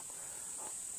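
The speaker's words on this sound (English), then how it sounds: "you might be able to hear the cicadas starting up" A steady, high-pitched insect drone holds unbroken throughout, a dense continuous buzz of cicadas calling at moderate distance with no other sounds.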